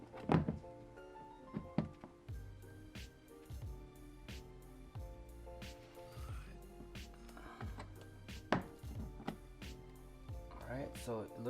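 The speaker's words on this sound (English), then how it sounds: "it sounded like it just clicked right in" A window regulator clicking into place inside the door of a 2007 Mazda 3, a few dull thunks and knocks during installation, heard close up under a person talking.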